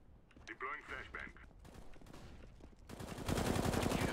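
Near the end of a game round, a loud burst of rapid gunfire enters after a brief stretch of voice. It marks a no-scope sniper rifle shot amid the firefight.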